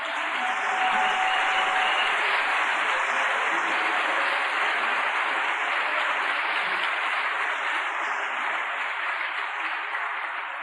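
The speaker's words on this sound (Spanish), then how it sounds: "Le damos un aplauso al Señor." A church congregation applauds steadily and loudly throughout, a dense, even wash of clapping that holds for about ten seconds with only slight swells and no talking over it.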